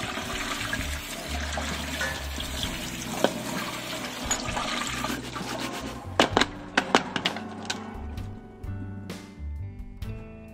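Tap water runs over salty black olives held in a strainer, a steady rushing wash broken near the end by a few sharp clinks and knocks of the olives and the container.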